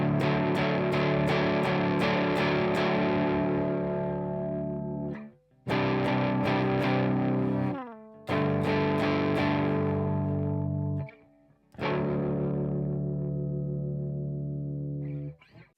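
An electric guitar plays through an alt-rock drive, distortion and fuzz pedal, ringing out several heavily distorted sustained chords with sharp strummed attacks, each left to decay before the next, with brief gaps between them.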